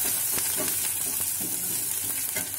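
Chopped ginger and garlic frying in a pan for soya chilli, with a constant loud sizzle and intermittent stirring scrapes.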